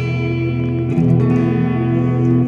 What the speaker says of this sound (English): It's basically the suspended chord that I just showed you, just fattened up by putting a big power chord on the bottom of it.